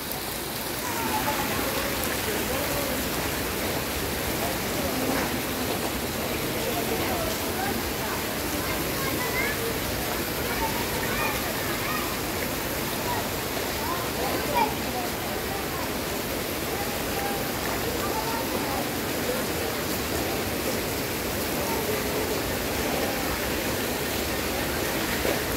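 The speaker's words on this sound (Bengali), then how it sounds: "বাইরে প্রচুর বৃষ্টি হচ্ছে।" Heavy rain falling outside a large pandal at Suhrawardy Udyan: a dense, unbroken hiss of downpour, steady and fairly loud for the whole stretch.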